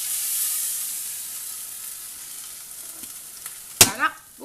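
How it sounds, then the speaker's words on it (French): Onions and mushrooms fry in olive oil in a pan with a steady, close sizzle that eases slightly over time, then a sharp metallic clatter and a few knocks of a utensil near the end. "je vais mettre mes oignons et les faire dorer un petit peu et ajouter les champignons et les faire cuire"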